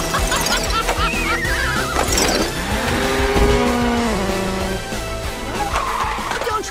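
Cartoon cars revving and peeling out, rising engine whines and tire squeals layered with sliding comic effects and a horse-like whinny, loud and busy under excited character voices.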